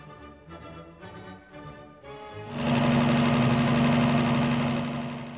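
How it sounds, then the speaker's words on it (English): A 1960 Ford F100 truck's V8 engine starts after a few sputtering cranks, then settles into a loud, steady running rumble with a strong low hum. "We let the engine run until it ran out of the gas that we had in our temporary gas tank."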